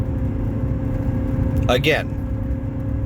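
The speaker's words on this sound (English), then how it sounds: "my pinion bearing, from the lack of maintenance from the previous owner, makes more noise than the muffler when you're just cruising around." Steady low drone of a car cruising on a Cherry Bomb Salute muffler with a worn pinion bearing, continuous rumble heard from inside as a voice briefly speaks over it.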